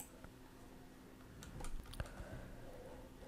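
Quiet typing on a computer keyboard at a Windows PC, a short run of soft key clicks with a couple of sharper taps, faint and close with no voices.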